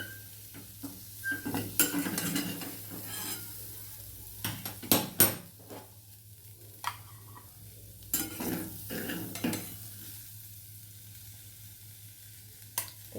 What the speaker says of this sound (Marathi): आता हे आपण आता काढून घेऊया गॅस बंद करूया एका डिशमध्ये आपल्याला हे काढून घ्यायचे